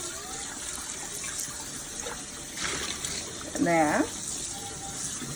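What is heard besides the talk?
cold tap water rinsing boiled bamboo shoots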